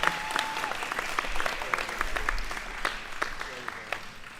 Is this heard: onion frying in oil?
no